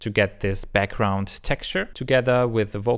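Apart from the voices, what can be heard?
None of the usual background noises is heard.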